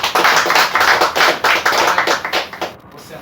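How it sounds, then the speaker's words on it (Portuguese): Congregation clapping together during an evening church service, a loud, fast rhythmic run of hand claps in close, regular beats that thins out and stops near the end. "que as palmas louvam o nome de Jesus"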